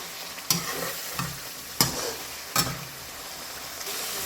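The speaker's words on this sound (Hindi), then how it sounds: "अब इसको हल्का सा भून लेते हैं हम।" Chicken karahi fries in a pan with a soft, continuous sizzle, broken by several sharp clacks and scrapes of stirring at irregular intervals, close by and with no voices.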